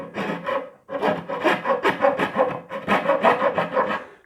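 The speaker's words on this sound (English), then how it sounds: "I'm just going to grab one of these carving files" A carving file rasps away excess wood on a Firebird-style guitar body, close and loud, in repeated rhythmic strokes with a brief pause after the first few.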